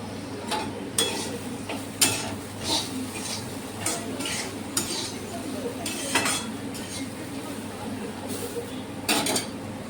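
Chapati poha, made from leftover flatbread, is stirred and fried in a pan on a gas stove, with repeated close scraping and tapping of a spoon against the pan over a soft, steady frying hiss.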